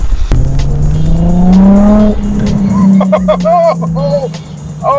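Nissan 350Z with a 3-inch catback, straight pipe, mid-resonator delete and twin backboxes, revving loudly up and down with a rising, rasping exhaust note, close and dominant throughout.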